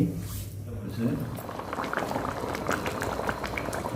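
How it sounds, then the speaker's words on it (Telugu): Crab curry boils in a pot with close, continuous bubbling and popping. A person talks over it. "ఇదిగోండి ఇప్పుడు ఉడుకుతుంది కాసేపటికి"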